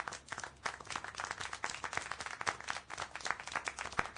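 In the video game Syberia The World Before, a small group claps in scattered, uneven bursts, giving a few seconds of steady applause at moderate loudness with no voices over it.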